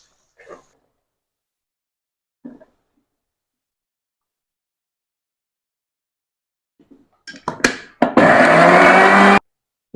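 A kitchen mixer grinder grinds spices in a short, loud whirring burst near the end, after a few faint bumps and a long quiet stretch.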